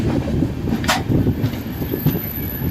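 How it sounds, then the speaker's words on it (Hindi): The Karnataka Express, a Mumbai–Bhubaneswar train via Hyderabad, rolls past up close: a loud, continuous rumble of wheels with rhythmic clickety-clack over rail joints, one sharp metallic squeal and a steady high whine above. "कर्नाटक एक्सप्रेस मुंबई भुवनेश्वर वाया हैदराबाद चलती है ये ट्रेन।"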